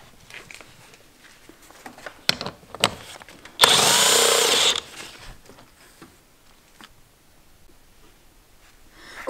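A bolt on the driver's side of a BMW E36 dashboard is backed out with a 13 mm socket. A single short, loud whirring burst stands out among faint clicks and handling noises.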